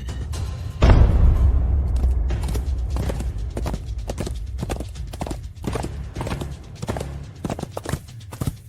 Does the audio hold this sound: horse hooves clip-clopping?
yes